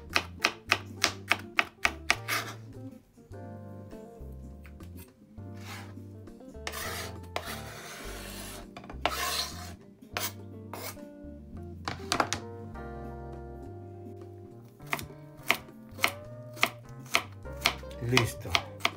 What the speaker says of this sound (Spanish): vamos a picar también un par de ajos